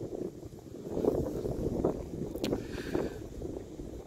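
Breezy wind blows across a lakeside hiking trail, making a low, rumbling buffet against the microphone that swells and fades in gusts. A brief faint high tone rises near the middle.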